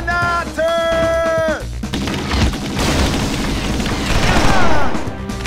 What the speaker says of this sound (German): Huch! Granate!